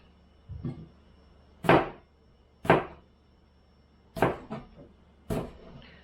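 A kitchen knife cutting through whole apples on a wooden board, four sharp chopping thuds spaced about a second apart, close and clear with faint lighter knocks between them.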